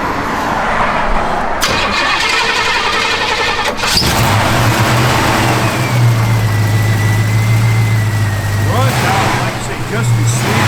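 A 1969 Pontiac Firebird engine runs at a loud, steady idle close by, with a low rumbling drone and a brief rev partway through, while people talk over it.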